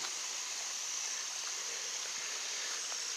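A creek flows faintly and steadily beside a forest loop trail at Boone Cliffs, Kentucky, in late summer. The soft, even water hiss carries on without any talk.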